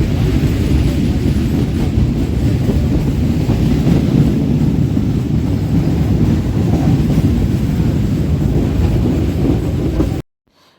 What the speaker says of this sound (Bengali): আমাদের ট্রেন এখন ঢুকছে বাঁকড়া নয়াবাজ স্টেশনে।